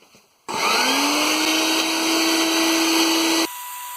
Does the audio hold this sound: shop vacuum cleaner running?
yes